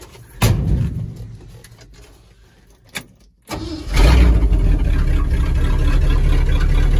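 A cheap old Ford Highboy truck in the snow, a couple of sharp bangs and a door-like thump, then the engine fires up and settles into a loud, steady, close running rumble.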